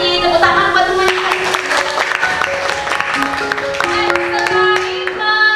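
Clapping spreads through a classroom in a lesson on news texts, a steady patter of many hands with voices calling out over it throughout.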